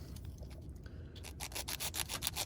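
Quiet rubbing at first, then a run of quick, rhythmic sanding strokes on a hard plastic frame rail, close by, growing louder toward the end.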